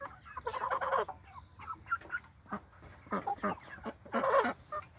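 Red Ranger broiler chickens in a movable grazing pen cluck and chatter in uneven bursts, close and fairly loud, with brief quieter gaps between calls.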